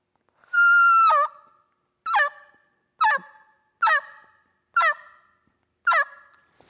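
A hand-operated turkey call imitates a turkey yelp: one long drawn note followed by five short, evenly spaced high-low yelps, loud and close with no talking.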